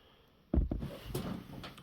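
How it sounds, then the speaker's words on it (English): Bottom drawer of a toolbox being pulled open, a sudden loud thump and scrape followed by rattling of paint cans and contents inside, close by and heard alone. "This bottom drawer is always a pain in the ass."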